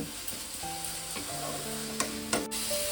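Grated carrot filling for patisapta being stir-cooked in a pan: steady sizzling and rubbing of the mixture with a few light scrapes and taps of a spoon, under soft tonal background music.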